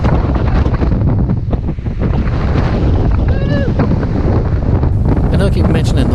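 Strong, sustained wind gusts of about 30 miles an hour buffet the microphone on a rocky desert mountain bike trail near Moab, a loud constant roar with a voice briefly audible underneath.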